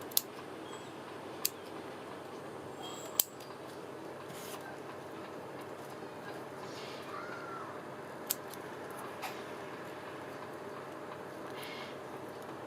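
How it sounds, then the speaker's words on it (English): Small scissors snip through lace and trims in a few sparse, faint, isolated cuts, spaced seconds apart over a quiet, steady background hum. "Smaller scissors for that."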